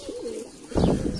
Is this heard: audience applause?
no